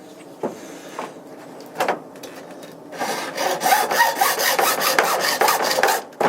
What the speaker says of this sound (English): this PVC actually cuts pretty easy